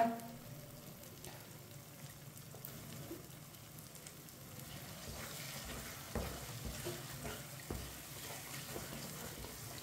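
Egg and semolina halwa cooks in a pan, with a faint, steady sizzle and occasional soft stirring scrapes that grow a little busier midway.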